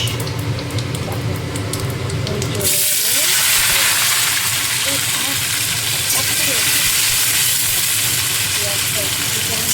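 Onion sizzles and hisses steadily in oil with chilies and cumin for khichdi, growing louder and brighter after the first few seconds, with faint voices and kitchen noise behind it.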